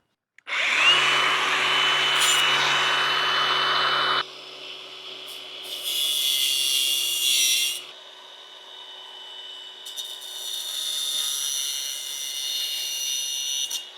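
An angle grinder cuts through wire ties on a fence, starting with a loud, close, high-pitched whine for several seconds, then pausing and returning in shorter, softer bursts of grinding.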